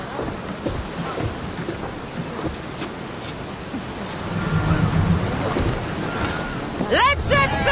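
A sailing ship in Assassin's Creed Odyssey gets under way at sea: wind and rolling water build steadily, then a louder rushing swell with creaking near the end.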